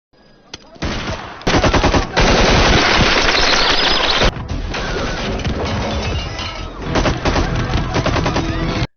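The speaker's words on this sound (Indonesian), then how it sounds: "Suara tembakan itu membuat para pengunjung ketakutan dan segera berlari mencari tempat yang aman." Terrorists fire guns in an Indian action film: dense, loud automatic gunfire with rapid bursts and cracks that run almost continuously, with brief pauses between volleys.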